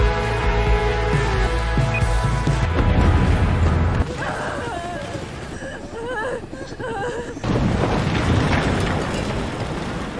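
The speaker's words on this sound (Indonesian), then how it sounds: "Di detik-detik terakhir menjelang bomnya meledak" Bomb blast in a Thai zombie film, a heavy booming roar with rumbling debris, then cut to quieter scored drama with a voice over music.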